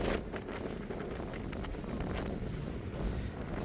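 Steady wind buffets the microphone in the Arizona backwoods between the Grand Canyon and Bellemont on a bike tour, a constant low rumbling roar with no pauses and no voices.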